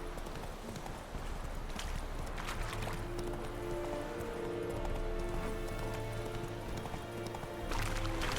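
Roach, the horse in The Witcher 3, gallops with rapid, rhythmic clip-clop hoofbeats that continue steadily over a dense bed of game ambience.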